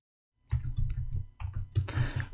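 Keys clatter on a computer keyboard in a quick, uneven run of close clicks and taps, with no voice.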